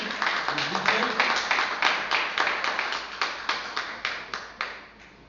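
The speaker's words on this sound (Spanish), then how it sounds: "Le voy a pedir que le regalen un aplauso al Señor bien alegre" Church congregation breaking into lively, joyful applause, a dense wash of many hands clapping with rhythmic surges that builds and holds steady, close and full.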